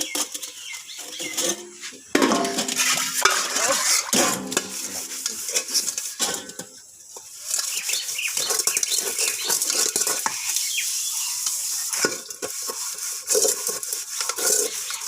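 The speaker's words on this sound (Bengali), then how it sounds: "কমপ্লিট আমার মাজা ঘষা প্রায় কমপ্লিট বন্ধুরা।" Cooking pots and pans are scrubbed and washed by hand: close, irregular rubbing and scraping with clanks of metal cookware and bursts of splashing water, pausing briefly between strokes.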